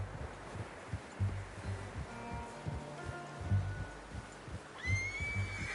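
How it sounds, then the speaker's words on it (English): A horse in Red Dead Redemption 2, heard as soft rhythmic hoof thumps and rustling, then a clear rising whinny near the end, moderately faint with no talk. "How's that new horse?"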